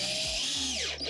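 A cordless drill whines steadily as it drives a screw through an L bracket into a raised garden bed board, its pitch shifting briefly before the motor winds down, close and loud with no talking.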